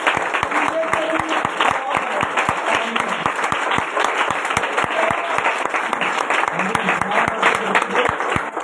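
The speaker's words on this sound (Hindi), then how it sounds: "खुदा उनके जलाल के लिए ताली बजाएं।" A church congregation in Lahore, Pakistan claps steadily and densely for the whole stretch, a loud, sustained wash of applause with no break.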